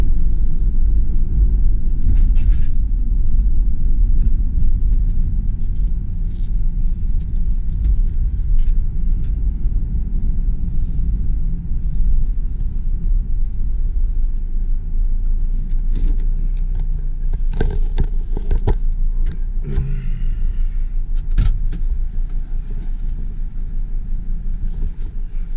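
A 2005 Freightliner Sprinter 10-passenger turbo diesel van on the move, heard as a steady, loud low rumble of engine and road noise from inside the cabin, with a few brief clicks and knocks near the end.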